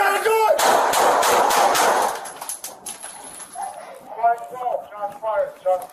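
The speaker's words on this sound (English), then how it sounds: "Shots fired." Police gunfire during an armed confrontation in a Chicago home, a rapid burst of loud cracking shots right up close in the first two seconds, followed by shouting voices.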